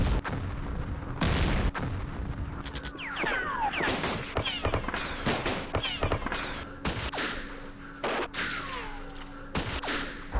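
A battalion's gunfire in a war video game set on the Eastern Front along the Dnepr: repeated sharp cracks and heavy thumps in irregular bursts, some volleys overlapping, with whistling projectiles between shots, moderately loud, no talking.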